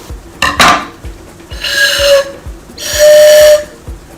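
A homemade pan flute blows two breathy, high sustained notes, with faint clicking and clattering in the background.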